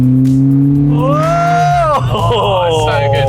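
A 1990s French hot hatch with a big engine revs hard, its pitch climbing and then dropping back before rising again. The tone is loud and close, with a strained, rising whine over a steady low rumble.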